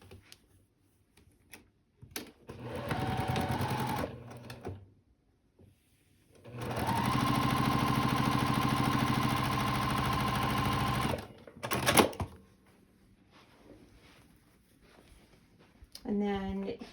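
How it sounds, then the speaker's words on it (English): A sewing machine stitches a straight seam joining two mirrored fabric pieces, running in two steady bursts of about two and four seconds, loud and close, with a voice talking in the gaps. "We're going to sew these together. And this is just a straight seam."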